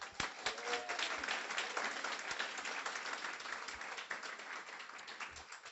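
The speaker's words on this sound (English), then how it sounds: "A warm round of applause for Shannon." A graduation audience gives a warm round of applause for a class supervisor, dense even clapping from a crowd that stays steady, then gradually thins toward the end.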